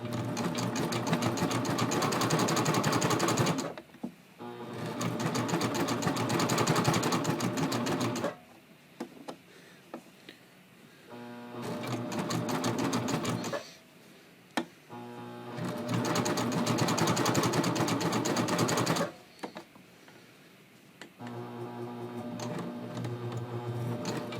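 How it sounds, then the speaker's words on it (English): Sewing machine stitching a folded neckline edge for a triple cover hem finish, running in four long loud bursts of steady, fast mechanical whirring, with brief quieter pauses between runs. "I'm just going to make sure I'm not stitching anything else besides this folded edge"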